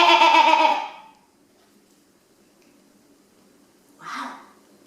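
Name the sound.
sheep bleating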